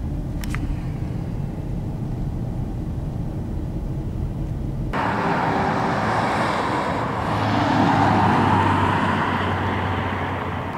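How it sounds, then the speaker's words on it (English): Road traffic in a traffic jam on the Hume Highway, a dense broadband rumble of engines and tyres that swells and broadens midway and stays loud and steady throughout, with no talk. "And we're in a bit of a traffic jam here."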